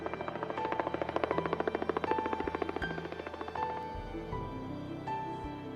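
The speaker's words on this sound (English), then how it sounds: "a helicopter lifts groups out of the canyon" A helicopter lifts rafting groups out of the Grand Canyon at Diamond Bar, its rotor beating as a steady rhythmic thump with engine whine, moderately close and loud, gradually fading and smoothing toward the end.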